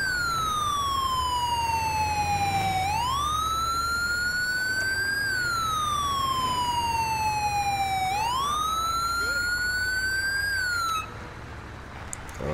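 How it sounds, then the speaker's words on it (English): A police car siren wails in long rising and falling sweeps, loud and close, running steadily for about eleven seconds on a beach before cutting off near the end. "Oh, I see the police car."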